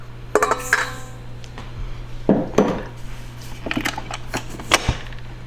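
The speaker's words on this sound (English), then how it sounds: "We're going to go ahead and cream 1 cube of butter." A utensil scrapes and clinks against a mixing bowl while a cube of butter is creamed with a cup of sugar, in irregular close knocks and taps over a low steady hum.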